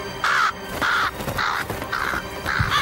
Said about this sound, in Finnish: Kaverit, ootteko huomanneet nuo linnut?